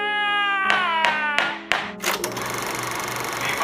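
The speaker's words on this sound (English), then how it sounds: "I want a brief round of applause out there for the incredible..." A short burst of applause: four or five sharp, separate handclaps in an even rhythm, then a wash of broad hiss and crowd-like noise. No one speaks.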